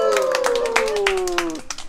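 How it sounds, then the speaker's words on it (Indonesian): An audience at a quiz event in Bogor claps in scattered, irregular bursts for about two seconds, with a steady tonal voice-like sound gliding downward underneath. "tepuk tangan dong"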